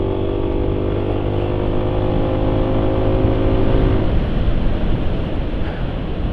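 A motorcycle engine running on Valvoline XLD 20W-50 oil is revved hard to high RPM, a loud, close, sustained roar that holds for about four seconds and then turns into a rougher, noisier whir.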